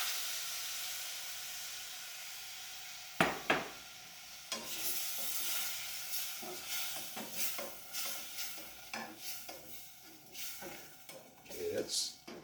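Flour being stirred into onions and garlic cooking in a pan for a Santa Fe chilli dish, with soft sizzling and repeated scraping, clattering stirring strokes, close up, with some talk mixed in.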